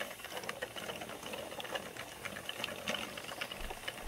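A 32-pin knitting machine with a row counter running slowly, giving soft, irregular clicking and clacking of the carriage and needles, close but quiet, with no talk.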